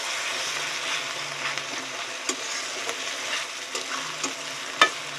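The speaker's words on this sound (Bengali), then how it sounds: "ভালো করে কষিয়ে নেব যতক্ষণ না টমেটোটা একদম নরম হয়ে গলে যাচ্ছে" Chicken curry masala with tomato sizzles steadily in a pan while being stirred, with scattered clicks of the spoon on the pan over a continuous fry hiss.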